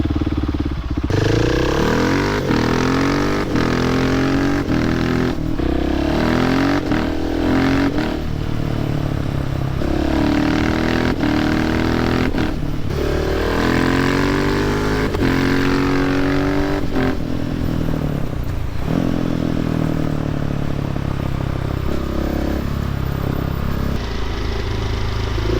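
A Husqvarna 701 motorcycle engine, an early project build, revs hard and continuously with repeated rising and falling throttle blips, loud and close with no talk over it.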